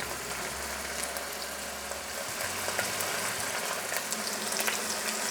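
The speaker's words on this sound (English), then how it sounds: "Beef goes into sear." Beef short ribs searing in a thin layer of neutral oil over medium heat, a continuous close frying hiss and crackle with a low hum underneath, steady and moderately loud, no speech.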